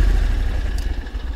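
An Argo 8x8 amphibious vehicle's engine idles loudly up close with a low, steady rumble and a slight pulsing throb, and no voices are heard.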